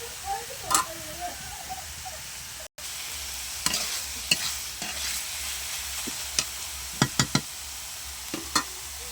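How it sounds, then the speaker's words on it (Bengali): Red amaranth greens sizzle and crackle in a hot pan, with a steady frying hiss broken by sharp clicks of a spatula stirring; no one speaks. "শাক ভাজা হয়ে গেছে বন্ধুরা দেখুন তুলে নিয়েছি"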